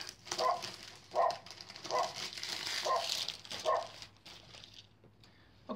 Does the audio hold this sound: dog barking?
yes